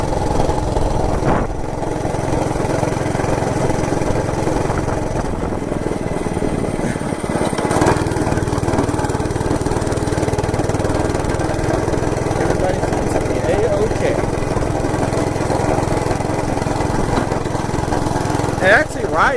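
A Monter Moto MMB80 gas minibike engine drones steadily and close while being ridden, a continuous buzzing hum that holds nearly constant for the whole stretch.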